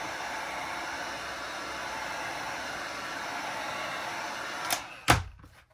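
A heat gun blows a steady, loud hiss of hot air while softening vinyl graphics wrap on a Pro Boat React RC boat hull, ending in a couple of sharp clicks as it shuts off.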